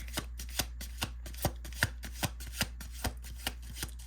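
Tarot cards are shuffled and handled in a quiet room, a steady series of about a dozen crisp riffling snaps at a regular rhythm, close and clear with no talking.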